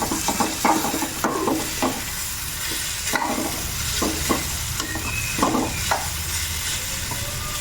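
Spoon stirring a beetroot stir-fry in a pan, a series of scraping strokes over a constant sizzle, close and fairly loud with no talk.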